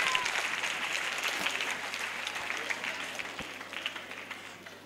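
Church congregation applauding during a Christmas service, a steady wash of clapping heard from a moderate distance, fading slightly over the few seconds, with faint voices mixed underneath.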